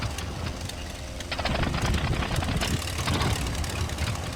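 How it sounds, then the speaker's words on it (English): WWI aircraft engine idling in the flight game Wings Over Flanders Fields, a steady rough broadband drone that holds constant and slightly swells midway, with no talk over it. "Let's turn off our own engine."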